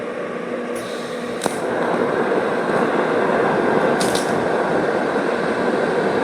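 TIG welding arc at around 130 amps with a setting fault: a steady, loud broadband hiss and buzz that swells after a few seconds and holds, with a few faint crackles, no voices.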